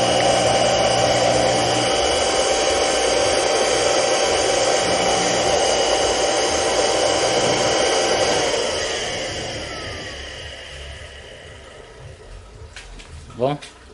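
A planer's three-phase motor spins freely with a steady, loud whir that fades as it winds down near the end, followed by a brief sharp rattle.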